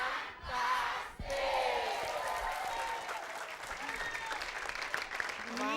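Studio audience applause on an Indonesian TV variety show, a loud sustained wash of clapping that swells and continues throughout, with a host's voice speaking over it.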